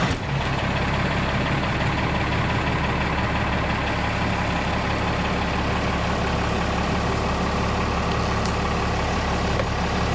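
Diesel engine of a first-generation crew cab truck running at a steady idle after starting, a continuous loud low rumble with no talk over it.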